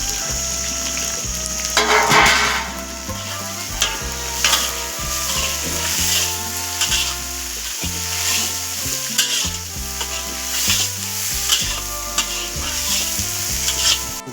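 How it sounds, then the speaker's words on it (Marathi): Onion fries in a pan, a continuous close sizzle with stirring scrapes, heard under a steady backing of music. "कांदा चांगला भाजून द्यायचा आता कांदा."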